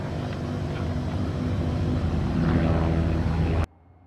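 A small training airplane speeds down the runway on a first solo flight, its propeller engine droning loud and steady with a rising hum before the sound cuts off abruptly near the end.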